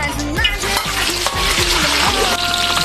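Whole spices stir-fried in a hot wok for a crayfish dish, a steady sizzle broken by a few scraping strokes of a spatula, loud and close, with music playing underneath.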